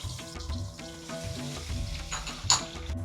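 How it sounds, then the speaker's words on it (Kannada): Garlic frying in hot oil for poha chivda, a steady crackling sizzle with stirring scrapes and one sharp spatter near the end, close and fairly loud, no voices. "ಬೆಳ್ಳುಳ್ಳಿ ಹಾಕ್ತಾ ಇದ್ದೀನಿ"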